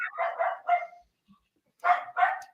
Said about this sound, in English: just not hearing this dog?